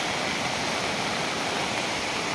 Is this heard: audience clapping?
no